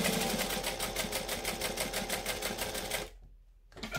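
A sewing machine stitches fabric in fast, steady rhythmic bursts at close range, pausing briefly near the end before starting again.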